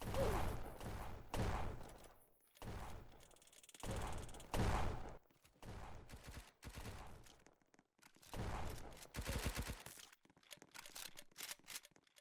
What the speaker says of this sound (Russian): Блин, все меня стреляют.